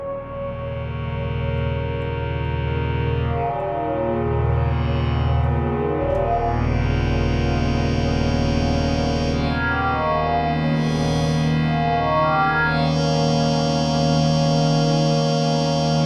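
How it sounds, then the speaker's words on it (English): Sustained synthesizer chords from a synth bus with the reverb turned up, shifting in pitch, thick and loud, bathed in lush reverb and chorus that smear the notes into a wide, washy tail. "Now I'm gonna put this on my synth bus. Turn up the reverb."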